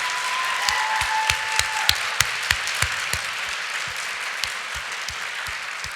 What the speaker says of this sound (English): Can we get a quick round of applause for all 7 of them?